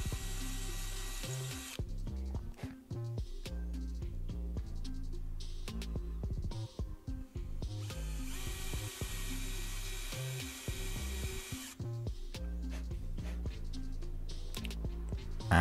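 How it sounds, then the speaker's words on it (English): A power drill bores holes in wood in several whirring bursts, starting and stopping with the pitch rising and falling as it bites, close and loud. "and again just drill some holes in"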